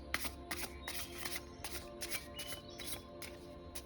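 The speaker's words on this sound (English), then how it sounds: "I'm going to shuffle again, then I'm probably just going to pull from the top this time." Tarot cards are shuffled in a rapid, rhythmic series of soft riffling bursts, quiet and close, with no talking.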